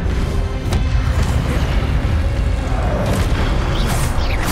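A casting effect from the Hogwarts Legacy video game gives a dense, loud magical burst with booming low rumble and crackling shimmer that sustains throughout.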